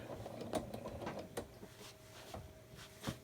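A sewing machine quilts an apple core table runner guided by a ruler, with faint mechanical whirring and several distinct stitch clicks spaced irregularly, quiet and close.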